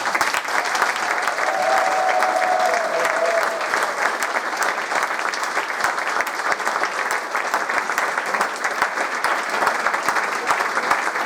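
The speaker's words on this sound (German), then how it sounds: "Begrüßen Sie jetzt gemeinsam mit mir, und zwar mit einem tosenden Applaus" Thunderous applause from a show audience in the theatre of the cruise ship MS Aphrodite, a dense, steady roar of many hands clapping close by that holds loud and unbroken throughout.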